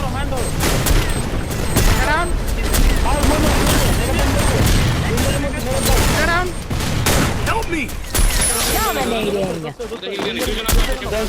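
Sniper rifle fire in the Free Fire video game, rapid dense gunshot bursts and booms layered with game effects across a busy battle, loud and continuous, with a voice talking over it.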